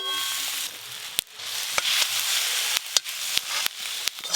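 Batter fritters of gourd flowers fry in mustard oil with a steady hissing sizzle, broken by several sharp spatula clicks at irregular intervals, near and fairly loud, with no voices.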